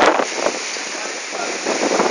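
A strong windstorm tearing through a house in Vila Velha, gusts buffeting the microphone in loud, rough bursts with a broad rushing roar throughout.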